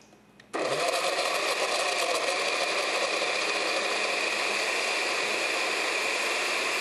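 A blender switches on after a brief quiet moment and purees a smoothie of juice, pineapple juice, frozen mango, banana and spinach, its motor a loud, steady whir that holds unbroken to the end.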